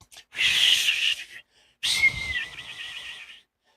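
A person whistles loudly and close up in two sustained bursts separated by a short pause, the second burst wavering in pitch.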